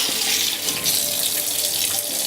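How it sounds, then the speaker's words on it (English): Tap water runs steadily into a kitchen sink while spleen is rinsed, a continuous loud splashing hiss with slight variations as the flow hits the meat. "So just a little rinse."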